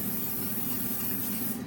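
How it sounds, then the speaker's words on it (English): Cooking spray hisses steadily into a baking pan for brownies, one continuous close spray that cuts off at the end, with no talk. "it says to spray it, so that is what I will do"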